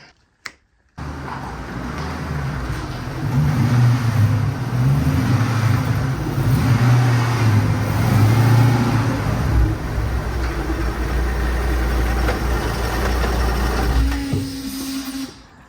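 Volvo car with a broken engine driving to a workshop, a steady loud engine drone and road rumble from inside the car, swelling slightly as it accelerates before cutting off at the end.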